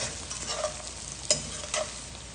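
Minced fresh garlic and red pepper flakes stirred in hot oil, a soft steady sizzle broken by a couple of brief spoon scrapes against the pan, close and fairly quiet, with no voices.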